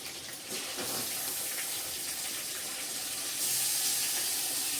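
Chicken pieces hit hot oil flavored with chilies for a Rayalaseema-style chicken curry, giving a steady loud hiss that swells near the end, with no talk.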